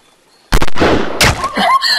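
A single loud, sharp rifle shot cracks out close in a mobile animal hunting game as a zebra is hit, followed by a brief second burst and a fading ring of game effects.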